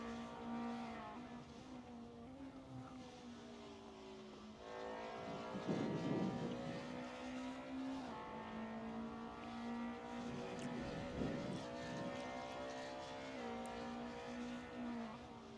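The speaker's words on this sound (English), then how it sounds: "already going quicker on this next lap in his very nicely liveried Hogan Pole BMW" A BMW race car lapping the Curitiba circuit in a sim-racing event, its engine droning steadily with rising and falling pitch through gear changes and corners, mixed with other cars' engine noise, no voices.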